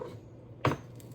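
A single sharp knife chop on a cutting board as a tomato is cut into quarters, one brief crisp thud in a quiet kitchen with no talk.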